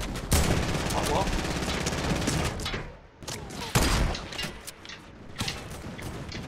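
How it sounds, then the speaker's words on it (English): Automatic turret gunfire in the Fortnite video game, rapid dense bursts of shots running loud and nearly continuous, a short lull near the middle, then more bursts with talk mixed underneath. "Turrets are the most annoying thing ever."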